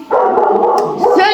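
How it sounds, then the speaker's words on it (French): Dogs at home on Christmas give a close, loud burst of continuous barking and yelping with no pauses. "ils aboient pour rien"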